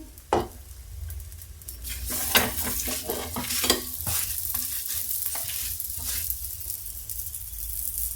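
A stuffed three-layer paratha fries with oil on a griddle, sizzling steadily under scattered scraping strokes and light metallic clinks, close and fairly quiet, with no speech.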